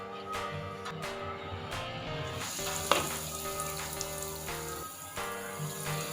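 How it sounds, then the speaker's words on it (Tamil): Potato fingers deep frying in hot oil over a medium flame, a dense continuous bubbling sizzle with crackling bursts as pieces go in, close and fairly loud, no talk. "இப்போ எண்ணெய் காஞ்சோடனே பொரிச்சு எடுத்துக்கலாம்"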